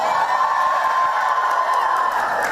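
An overflow crowd cheers at an Iowa presidential campaign event, a continuous wash of shouts and whoops at a steady level with no single voice standing out.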